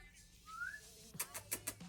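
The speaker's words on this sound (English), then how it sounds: "I am gonna whistle at our dog because he's a dog tender." A person gives a short rising whistle to call a dog, fairly faint, followed by a few soft muffled knocks or footsteps nearby.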